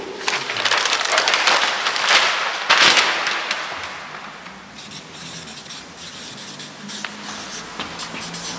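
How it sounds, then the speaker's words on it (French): Chalk or marker scratching steadily across a board, a continuous close rubbing and scraping with brief louder strokes, fading slightly midway before resuming. "c'est plus facile si j'écris plus haut"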